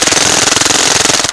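A MAC-11 fires 147-grain Badlands Jello rounds in one loud, unbroken full-auto burst of rapid, evenly spaced shots lasting just over a second.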